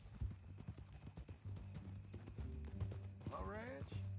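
Horse hooves clip-clop at a steady walking rhythm in the Red Dead Redemption 2 video game, under conversation between men, with a brief horse whinny near the end.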